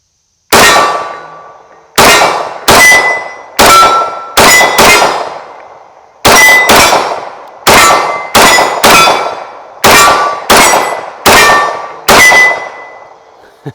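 Metallic clangs ring out from steel targets struck by 9mm shots from a Ruger P95 pistol, about sixteen loud, sharp hits in irregular bursts, each ringing briefly before the next, with no talking.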